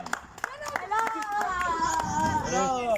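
Scattered hand claps from classmates celebrating the winners of a classroom game, sparse and uneven, mixed with children's voices and chatter throughout.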